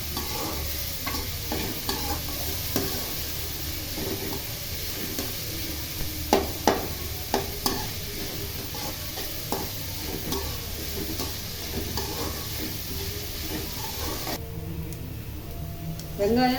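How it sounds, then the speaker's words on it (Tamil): Onions sautéing in oil in a pan for millet rava dosa, a steady close sizzle and crackle with occasional scraping stirs and clicks from a utensil, continuing for a long stretch. "வெங்காயம் நல்லா பொன்னிறமாக வதங்கணும்."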